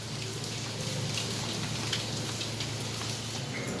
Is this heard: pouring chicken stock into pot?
no